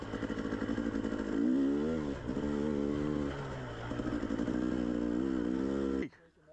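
A motorcycle engine labors up a rocky hill, a loud, close, chugging drone that rises and falls with throttle changes before cutting off abruptly near the end, with a voice talking over it.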